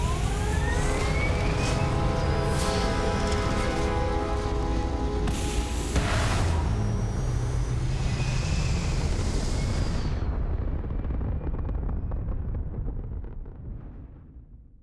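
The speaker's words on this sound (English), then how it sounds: "All thrusters firing." Spaceship thrusters fire in the Starfield video game with a loud, continuous roar and layered rumbling tones that hold steady, then fade out toward the end, with no voices.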